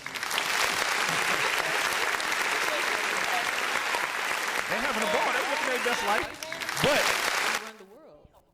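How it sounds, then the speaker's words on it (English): A studio crowd at a live broadcast applauds loudly and steadily for several seconds while people talk over it, then the clapping thins out and fades to near silence. "this time I think they deserve applause"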